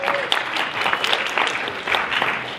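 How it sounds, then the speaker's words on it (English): An audience in a church claps steadily for a few seconds during a stage performance, a dense, even patter of many hands with no voices over it. "Let's give that a round of applause."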